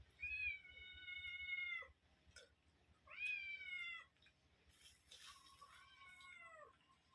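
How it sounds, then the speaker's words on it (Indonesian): Several cats meowing in long, drawn-out calls, three or four distinct meows with short pauses between, fairly close and clear against a quiet background. "Bayangin kau banyak kucing"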